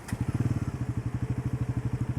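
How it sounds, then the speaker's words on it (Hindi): A Bajaj Pulsar NS400Z motorcycle engine idles close by, recorded from inside a helmet, with a steady, rapid, even thumping pulse, no other sounds. "and this is how the motorcycle sounds"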